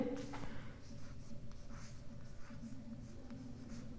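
Chalk or marker scratches across a classroom board during a geometry lesson on triangles, a series of short soft strokes and taps with faint room noise, quiet and close.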